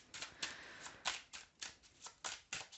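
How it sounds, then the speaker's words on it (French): Tarot cards are shuffled and drawn in a quiet room, giving a series of soft papery riffles and flicks in an uneven rhythm, close and faint, with no voice over them. "tire encore 2 cartes"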